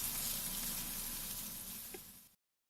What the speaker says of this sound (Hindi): अब मीडियम फ्लेम पर भिंडियों को हल्का सा कलर चेंज होने तक लगातार चम्मच चलाते हुए फ्राई कर लेंगे।